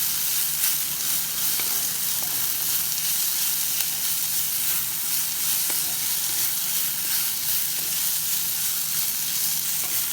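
Onions and green chilies frying in a pan for tiffin sambar produce a loud, continuous close-up sizzle and crackle with a few faint stirring taps, and nobody speaks.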